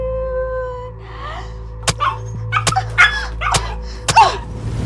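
A dog whimpers in a thin high whine, then lets out several short, sharp barks and yips in quick, uneven succession, fairly close and loud.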